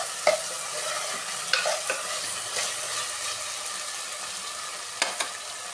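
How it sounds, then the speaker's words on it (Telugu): Chicken with ginger-garlic paste and salt stirred in a hot pan: a steady close sizzle with intermittent scraping clacks of a spoon against the metal, no voices. "అల్లం వెల్లుల్లి పేస్ట్ సరిపడా సాల్ట్ వేసి బాగా మిక్స్ చేయాలండి"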